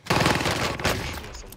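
Gunfire in an online shooter game, a dense, loud burst of rapid shots rattling for over a second and then tapering into a rougher, quieter echo.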